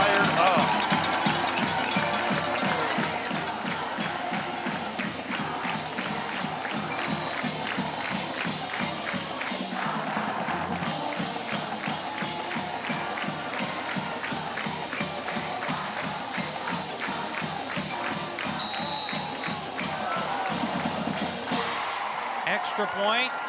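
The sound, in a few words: football crowd cheering on homecoming night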